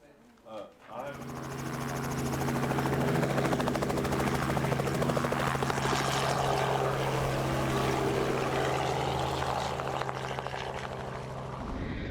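Helicopter flying overhead during rhino dehorning, its loud pulsing rotor drone swelling in within a second and holding steady and close, with voices talking underneath.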